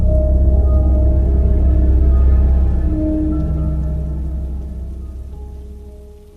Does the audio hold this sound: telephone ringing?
no